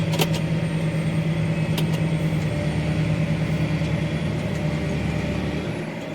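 A tractor engine drones steadily at harvest time, a close, continuous rumble with a smooth, unchanging tone. No distinct gear change stands out, and no one speaks.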